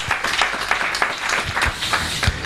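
A church congregation at a French-language service claps, with dense, steady applause and a few sharper claps standing out, fairly loud and close, with no talking over it.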